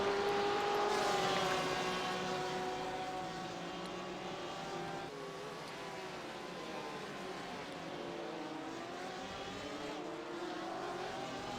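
Porsche GTE and GT3 race cars at Sebring in a sim racing game sound as a continuous roar of several engines, with pitches rising and falling through gear changes, loud at first and then easing slightly.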